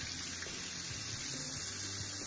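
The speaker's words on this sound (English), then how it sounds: "make sure you use cold water and just rinse off all your meat" Raw rabbit meat rinsed under a cold running tap, a steady soft hiss of water splashing into a sink, continuous and fairly quiet throughout with no talking.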